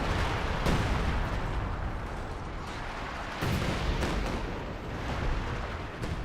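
Artillery barrage in the Company of Heroes 2 strategy game, a dense rumbling wash of distant booms and blasts with a couple of sharper impacts, continuous and heavy without pauses.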